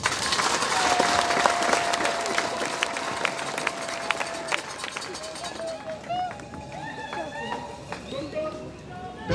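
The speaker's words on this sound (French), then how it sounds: "Je vous prie de l'applaudir." Audience applause at a Catholic episcopal ordination in Kabinda fills the hall with dense, loud clapping that tapers after about five seconds. A sustained tone and scattered voices and cheers continue beneath it.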